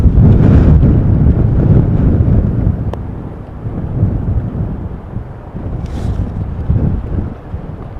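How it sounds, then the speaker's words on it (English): Storm winds at Amsterdam Schiphol slam into a camera under a rain cover, loud rumbling gusts and buffeting thumps that swell and ease, strongest at the start, with a sharp flapping burst later on. "The wind grabs hold of the camera and pushes it up and down violently."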